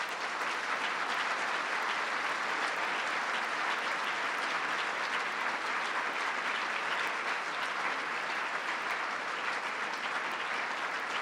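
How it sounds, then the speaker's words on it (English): An audience breaks into sustained applause, a dense steady wash of many hands clapping for over ten seconds at moderate distance, with no voices over it. "let's give them all three a round of applause"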